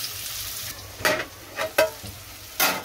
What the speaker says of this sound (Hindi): अभी इसमें मैं कांदा डालते देती हूँ।